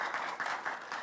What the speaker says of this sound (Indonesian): boleh berikan tepuk tangan untuk semangat kepada para pasangan calon